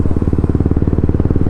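A Honda H'ness motorcycle fitted with a Red Rooster aftermarket exhaust idling up close, a loud, deep, evenly pulsing thump with a steady rhythmic beat throughout.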